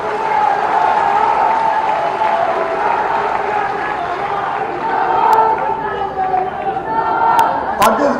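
Crowd at a political rally clapping together, a dense continuous patter of many hands with cheering mixed in, loud and sustained.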